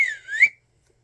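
One person whistles a short, clear, rising-and-falling tone for about half a second, close and loud, followed by silence.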